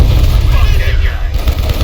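Rapid gunfire from a firefight in Call of Duty: Black Ops Cold War, dense low-end bursts running steadily through the clip, loud and close, mixed with game sound effects.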